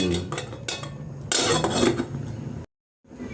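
A metal lid clatters down onto a cooking pot of simmering leafy greens and papaya: a few soft clinks, then one brief, loud rattling clang before a sudden cutoff.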